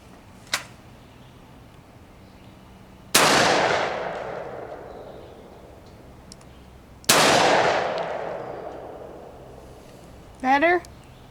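Two loud, sharp shotgun blasts fired through a recoil suppressor, each with a long booming decay, about four seconds apart; a faint click comes before them and a brief voice follows.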